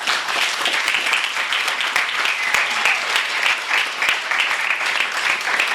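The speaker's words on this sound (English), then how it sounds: "let's give him a warm round of applause" Steady, dense audience applause fills the room at an author's reading, continuous and fairly loud throughout with no speech over it.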